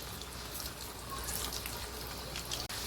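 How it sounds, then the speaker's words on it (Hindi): Potatoes frying in half a cup of oil for a Kokani-style chicken curry, a steady close hiss and crackle of sizzling that runs unbroken throughout. "आधा कप तेल डाल दिए और आलू को फ्राई करके निकालेंगे"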